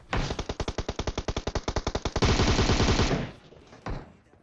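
Rapid automatic gunfire from the PUBG battle royale game, a long string of evenly spaced loud shots that merges into a denser burst before fading, with one more shot near the end.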